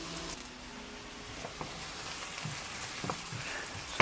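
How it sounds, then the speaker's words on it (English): Onions and garlic fry in a mix of sesame and olive oil for Korean fried rice, giving a steady close sizzle with a few soft stirring knocks. No one speaks. "So we add our onions and our garlic into that, and we're going to fry this off until it's nice and translucent."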